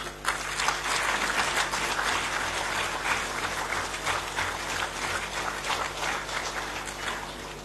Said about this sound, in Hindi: कृपया तालियों की गड़गड़ाहट से इस विशेष अवसर का अभिवादन करें।